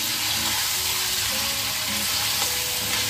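Chicken meat for biryani sizzles and fries in a pan, a loud steady crackling hiss with occasional stirring scrapes, no voices.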